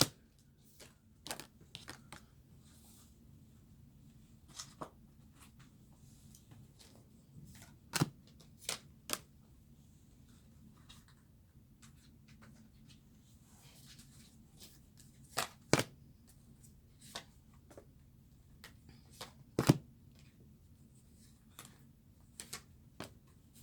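Advice cards for a tarot-style reading are shuffled, with soft riffling and sharp taps of cards striking a surface at irregular intervals over a quiet background. Nobody speaks.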